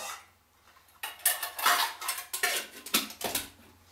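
Pieces of a metal mess kit, one plate and two bowls, clatter and clink as they are handled, with a quiet start followed by several close, bright knocks and scrapes.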